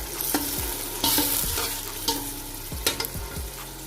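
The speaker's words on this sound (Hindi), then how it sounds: "तो व्यूअर्स, अब हम इसमें जो है वो टमाटर और सब्ज़ मिर्चें वो ऐड कर देंगे। और इसको हम अच्छे से मिक्स करते हैं।" Tomatoes and green chilies frying in a pan for potato rice, stirred with a spoon that knocks and scrapes against the metal in irregular strokes over a steady close sizzle.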